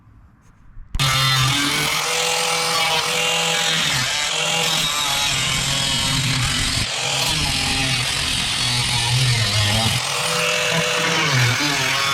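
A loud power tool cuts out a piece of car body metal in a continuous, harsh, buzzing run. After a quiet start it holds steady for about eleven seconds, with slight changes in pitch as it bites.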